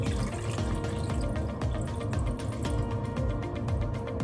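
Water poured gently into a pot around a pudding bowl set inside it, a steady running splash and trickle that continues without a break, close by and moderately loud.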